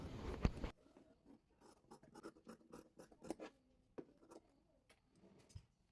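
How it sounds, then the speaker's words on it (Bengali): Scissors snip through fabric for the front-panel piping of a baby nightie, giving a quick run of close, crisp cuts with short pauses between them and no talking. "এবার সামনে পাটের পাইপিনের জন্য কাপড়টি মাপ করে কেটে নিচ্ছি।"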